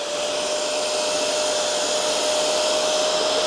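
A Hoover PowerDash GO Pet portable carpet spot cleaner runs on carpet, a loud close steady motor whine with a constant high tone and rushing suction, no voices.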